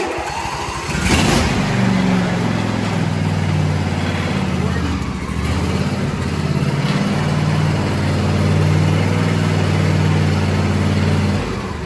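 A John Deere E170 riding mower engine cranks and catches with a sharp burst, then settles into a loud, steady running drone with slight rises in pitch, close by throughout.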